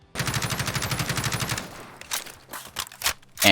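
Partial reload of a Kilo 141 rifle with a drum magazine in a Fallout 4 mod: a rapid, even burst of mechanical rattling, then a short pause and several crisp metallic clicks and clacks.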